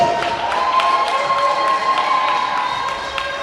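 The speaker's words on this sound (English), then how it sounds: "Give them a huge round of applause for helping make today possible." An audience claps and cheers at a live community event, a dense steady wash of hands with shouts and whoops mixed in, loud and close throughout.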